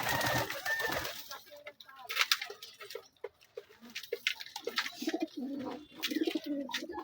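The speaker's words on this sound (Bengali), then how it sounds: "এই যে আমার সেই কবুতরটা আর এই কবুতরটার বাচ্চা উঠেছে" Giribaz pigeons coo in low, throaty bursts at feeding time, mixed with fluttering, pecking and other close movement sounds.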